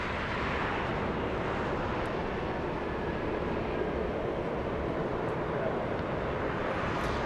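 A large cargo freighter jet at Los Angeles International Airport roars steadily as broadband engine noise, constant and loud throughout, with no speech over it.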